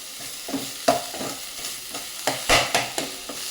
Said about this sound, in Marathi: मस्त असा आता मसाला भाजतोय.